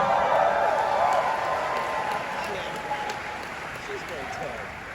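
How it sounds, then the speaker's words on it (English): A large convention audience at a New York Comic Con panel applauds steadily for the full stretch, a dense, even wash of clapping with scattered cheers that slowly tapers, and a voice speaks faintly underneath. "Give yourselves a round of applause."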